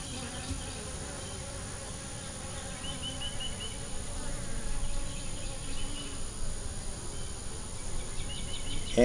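Honeybees crowd a hive frame carrying queen cells, and their dense, continuous buzzing hum fills the air close by with no talk.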